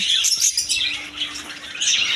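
A crowd of lovebirds in an aviary chatters nonstop in shrill, overlapping chirps and squawks, with occasional wing flutters nearby.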